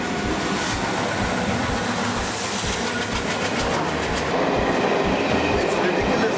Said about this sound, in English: The train has stopped so that another train can go past.